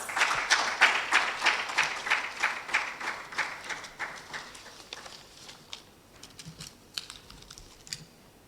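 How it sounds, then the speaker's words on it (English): A small audience at a panel talk on gender-based violence claps to welcome a speaker: brisk, even applause that thins after a few seconds into scattered, fading individual claps, fairly quiet overall. "Shall we welcome her with an applause?"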